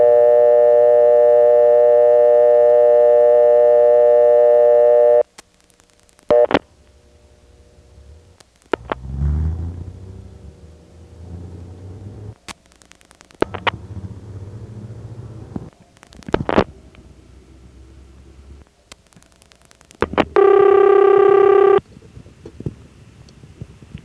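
Old step-by-step telephone exchange in Kenley, 1977, reached on a vacant level: a steady tone, then clicking relays, mechanical rumbles and switching clunks, ending in a loud, bright intercept tone.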